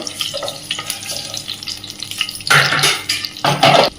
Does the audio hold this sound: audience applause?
no